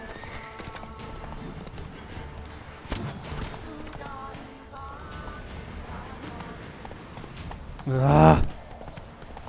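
Roach, a horse in The Witcher 3, clip-clops at a steady gallop, hooves drumming under game music, ending in a loud whinny; a man grunts briefly.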